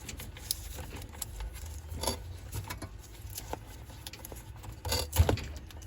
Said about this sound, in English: So I'm gonna rip this electrical tape off